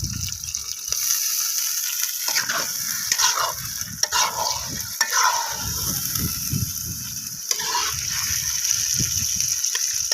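Thin-sliced chicken liver frying in a pan for a village-style chicken liver pepper fry, a steady bright sizzle broken by bursts of stirring and scraping, close and continuous.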